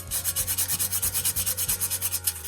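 Sandpaper scrubs back and forth over a chalk-painted glass mason jar to distress it, a close, rhythmic rasping of about a dozen quick even strokes with no talking.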